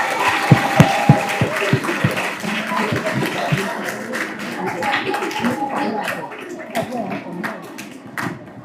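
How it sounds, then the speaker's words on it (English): A school audience at a career day claps in a burst of close, sharp hand claps that settle into scattered clapping, with voices and chatter mixed throughout. "I want us to clap for."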